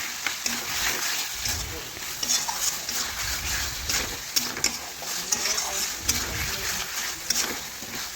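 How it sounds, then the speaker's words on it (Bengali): Chicken being stirred with Kashmiri chili powder in a pan, with soft, steady scraping and shuffling of the spatula under continuous kitchen noise, close and moderate in level, while a voice speaks over it. "আর এই দেখুন দিয়ে দিলাম কাশ্মীরি লঙ্কার গুঁড়ো, এটাও ভালোভাবে নাড়াচাড়া করে চিকেনের সাথে মিশিয়ে নেব।"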